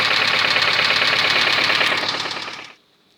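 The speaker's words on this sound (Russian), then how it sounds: "При увеличении оборотов поршень просто начинает больше ходить и бьется днищем поршня о головку." A car engine with a worn-out connecting rod bearing knocks, giving a fast, steady metallic rapping close up over the running engine. It runs evenly for over two seconds, then fades and cuts off as the engine stops.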